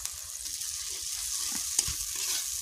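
Spice paste with turmeric and ginger fried down in a pan, a steady close sizzle and bubbling with soft stirring and one small clink of a spoon on the pan.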